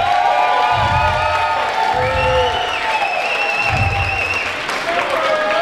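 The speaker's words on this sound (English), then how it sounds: "Y'all should be clapping and supporting all night" A crowd applauds, whoops and cheers at a steppers dance contest in Minnesota, loud dense clapping with shouts over music throughout, close and continuous.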